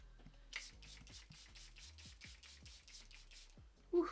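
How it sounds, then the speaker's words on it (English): Charlotte Tilbury Airbrush Flawless Setting Spray misted onto the face in a quick run of about a dozen short, hissing pump bursts, evenly spaced and close, with faint handling sounds beneath and a brief louder knock at the end. "I'm gonna spray the skin with my favorite setting spray."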